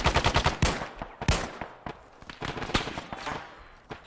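Gunfire in the military shooter game Arma 3 in a World War 3 scenario: a rapid automatic burst followed by scattered single and double shots, loud and close against quieter distant firing.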